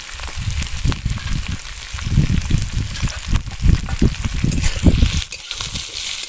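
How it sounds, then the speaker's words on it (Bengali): Cumin, coriander seeds, fennel, grated coconut and chopped tomato frying in a pan with green chillies, a steady close sizzle with bursts of popping crackle throughout. "হালকা করে সব কিছু একটু আমি ভেজে নেব।"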